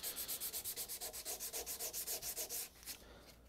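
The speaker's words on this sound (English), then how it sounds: "take it with sandpaper now. That's cleaning up really nice." Sandpaper rubbed by hand over a steel hewing axe head during restoration, a steady rhythm of quick back-and-forth scratchy strokes, close and even, slowing and fading at the end.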